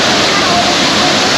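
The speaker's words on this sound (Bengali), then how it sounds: "একটা, দুটো, তিনটে, চারটে জায়গা থেকে জলটা পড়ছে" Loud, steady roar of a waterfall in Odisha's Keonjhar area, with water pouring down from four separate points, forming a continuous dense rush heard up close without a break.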